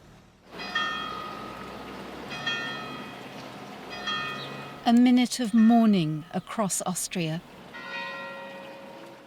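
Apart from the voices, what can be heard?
church bells ringing in mourning for Graz school shooting victims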